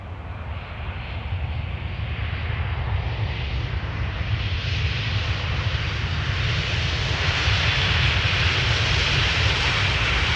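A passenger airplane lands on the Polderbaan runway at Amsterdam Schiphol, its engine roar loud and steady throughout, with a broad rushing wash that swells slightly toward the end and no voices.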